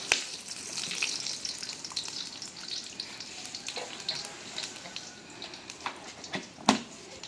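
Whole bay leaf, cinnamon, cardamom and cumin seeds fry in hot oil with a steady close crackle and hiss, a few sharper pops rising through the sizzle, no voices.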